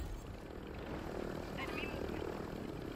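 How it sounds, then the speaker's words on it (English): Helicopter in the Call of Duty Warzone video game, a steady droning rotor and engine hum that stays even throughout, with a voice talking faintly over it. "We're going to grab this other extra spare chopper"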